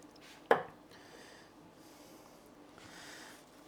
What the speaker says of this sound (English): Then I have some cilantro for my lime cilantro rice. I'll cut off the stems.